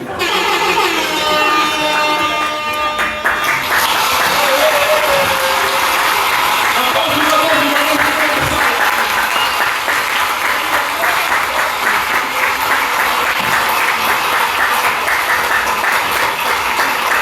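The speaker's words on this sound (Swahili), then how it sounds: "Naomba makofi mengi sana." Loud, sustained applause from a large audience fills the hall at a movie launch event as the chief guest is welcomed, with a brief musical or tonal passage at the start and steady clapping throughout.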